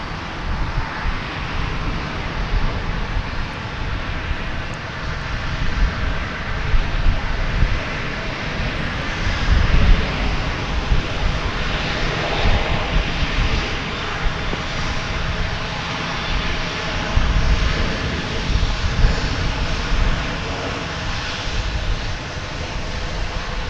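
An American airliner bound for Las Vegas takes off at DFW Airport, its jet engines producing a loud, sustained roar that holds steady and broad throughout, heard alone without talk.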